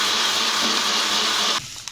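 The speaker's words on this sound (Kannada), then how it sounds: "ಸೊ ಒಂದು ಜಾರಿಗೆ ಇದನ್ನು ಹಾಕಿ ಮಿಕ್ಸಿ ಮಾಡ್ಕೋತಾ ಇದ್ದೀನಿ" A kitchen mixer grinder runs at full speed, pulverising roasted dough pieces into powder in its jar. The steady, loud whirring drone holds for over a second and a half, then cuts off abruptly, leaving a faint rattle.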